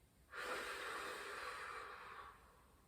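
A deep exhale during a breathing exercise in a bands workout: one long, soft, breathy rush of air that starts abruptly and tapers slowly, close and quiet.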